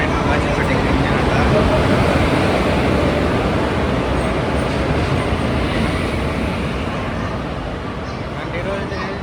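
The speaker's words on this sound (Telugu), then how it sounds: "సో ఇదే మన ట్రైన్ అయితే వచ్చేసింది" A passenger train pulls into a large, uncrowded railway junction near Hyderabad, giving a loud, steady broadband rumble and rattle of wheels and carriages that fades slightly toward the end, with voices mixed in.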